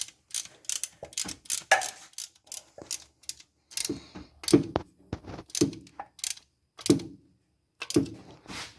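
A hand ratchet tightens a nut on the belt tensioner of a 1972 Buick Skylark engine, producing close, sharp rhythmic clicking strokes in quick repeated bursts with short pauses between them.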